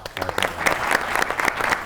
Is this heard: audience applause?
yes